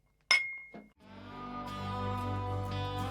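Two glasses of bourbon meet in a toast: one sharp, bright clink rings close by, followed by a softer knock and then a steady low hum of background noise.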